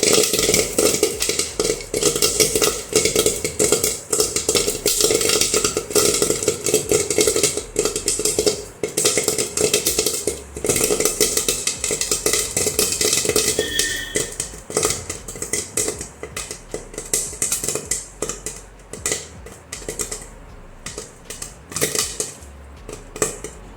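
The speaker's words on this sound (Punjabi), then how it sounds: "ਮੱਕੀ ਵੇਖੋ ਕਿੰਨੀ ਵਧੀਆ ਫੁੱਲੇ ਬਣਦੇ ਮਕਈ ਦੇ" Corn kernels popping in a covered pan while making masala popcorn, a dense, loud rapid-fire rattle of pops against the lid that gradually thins out toward the end.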